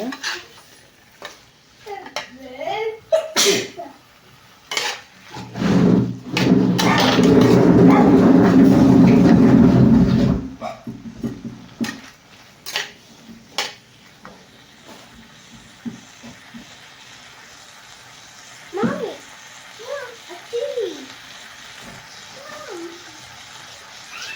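Vegetables for a tomato and okra tamarind kuzhambu sautéed in a pan: sharp metal clinks and scrapes of a spoon, then a loud, steady sizzle for several seconds before more intermittent clanking and quieter stirring.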